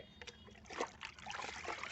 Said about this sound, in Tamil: இந்த தண்ணியை நல்லா நம்ம கலக்கி விட்டுட்டு